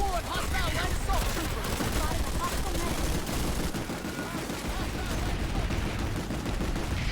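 Dense automatic gunfire rattles from Planetside 2, a steady loud barrage of rapid shots layered with distant battle noise throughout, with speech faintly present in the mix.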